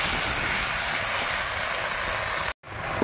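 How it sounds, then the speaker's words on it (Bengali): Onion with ginger-cumin paste and green chilli paste frying in a pan, a loud steady sizzling hiss that cuts out briefly near the end, then resumes. "পেঁয়াজ ভাজা হয়ে এসেছে, এবার মশলা দিয়ে দিচ্ছি আদা জিরে বাটা আর কাঁচা লঙ্কা বাটা।"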